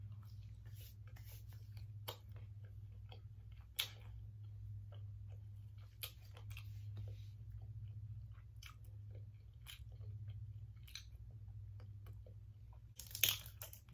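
McDonald's spicy chicken nuggets eaten plain, giving soft crunching and chewing bites scattered over a steady low background hum, close to the mic, with no talking.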